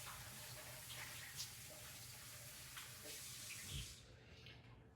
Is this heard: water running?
yes